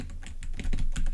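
Typing on a mechanical keyboard about eight inches from the microphone: rapid, uneven bursts of crisp, clacky keystrokes, close and fairly loud, with no talking.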